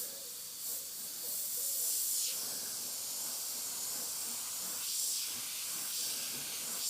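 An airbrush sprays paint with a steady, soft hiss that swells and eases in several passes, close and fairly quiet, with no talking.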